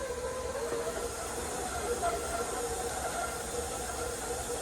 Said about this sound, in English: So butter is whipping up.